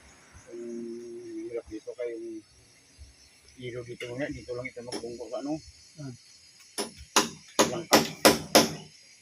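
Nails hammered into wood while boarding something up, a quick series of sharp, close blows that build near the end after stretches of people talking nearby.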